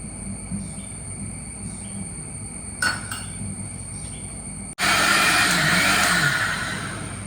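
A kitchen mixer whirs steadily while half a cup of sunflower oil blends in, with a brief clatter near three seconds, then a sudden louder, harsher blending burst that runs for the last few seconds.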